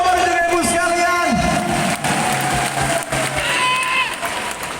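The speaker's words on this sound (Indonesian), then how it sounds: "Tepuk tangan untuk Bapak dan Ibu sekalian" Applause and cheering from a crowd at a political rally in Sidoarjo, a dense sustained roar of clapping and voices with a voice over loudspeakers rising above it.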